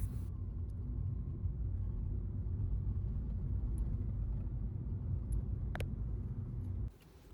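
Steady low road rumble from a car cruising along a highway during a long drive, constant engine and tyre noise throughout with a few faint ticks, dropping off abruptly near the end.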